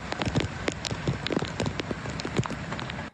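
Heavy typhoon rain patters and splashes on a nearby surface in Keelung, with dense, irregular drops and sharper spattering hits over a continuous wet hiss.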